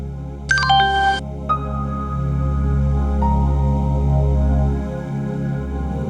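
A mobile phone rings indoors with a bright electronic melodic ringtone, a quick descending run of tones followed by sustained notes, loud and close over a steady low hum.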